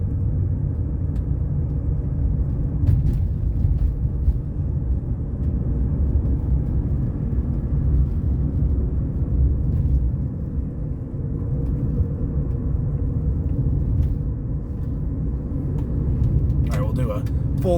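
Interior of a BMW E30 on the move, a low steady road and engine rumble filling the cabin with faint ticks and rattles, fairly quiet and even.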